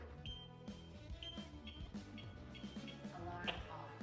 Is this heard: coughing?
no